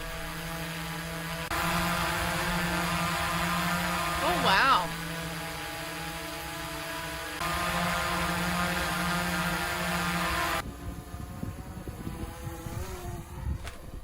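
Drone fitted with Master Airscrew propellers, flying with a steady buzzing whine that swells and shifts pitch in several passes, loud and near; a person briefly exclaims over it.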